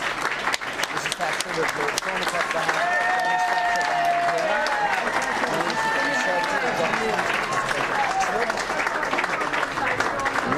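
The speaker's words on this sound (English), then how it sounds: "Thatcher being applauded by Tory party workers." Tory party workers applaud Margaret Thatcher on the 1979 election night, with loud, dense and sustained clapping from a close crowd and excited voices and cheers mixed through it.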